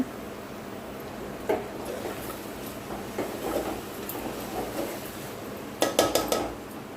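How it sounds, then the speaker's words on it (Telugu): A spoon scrapes and clinks inside a cooking pot as goat head curry is stirred, with intermittent metallic knocks that build into a quick burst of clatter near the end over a steady background hum. "మూత తీసి ఇదంతా ఒకసారి కలుపుకోవాలి అడుగంటకుండా"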